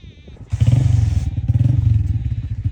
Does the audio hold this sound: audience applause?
no